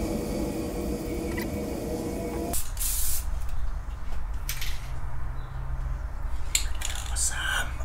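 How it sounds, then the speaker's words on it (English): A spray can lays a clear coat onto truck rod tubes, a steady close hiss that stops abruptly, then resumes in short bursts with brief pauses. "So I'm gonna spray paint this final coat tonight"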